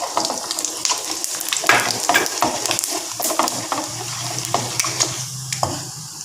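Mustard seeds, urad dal and cumin fry in hot oil in a pan with a steady sizzle and sharp crackles. Stirring clatters over it, and a faint water sound comes toward the end.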